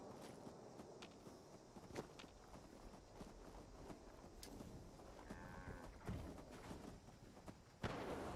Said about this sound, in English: Stop probing my cows.